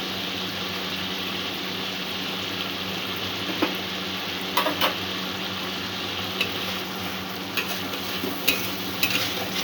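Spice paste of chili powder and salt sizzles and fries in hot oil for a chhena-stuffed pointed gourd curry, a loud continuous hiss broken by occasional scraping strokes of a stirring spoon.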